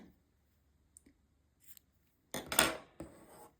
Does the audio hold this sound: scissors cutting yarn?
yes